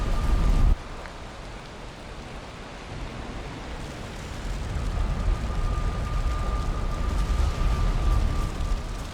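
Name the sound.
rain and stormy weather in the video game Valheim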